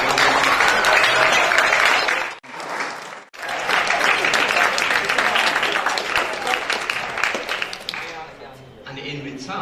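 Grade 10 students applaud the grade 9 class at a graduation and awards event, a loud sustained round of crowd clapping with two brief dips before it fades into quieter scattered claps.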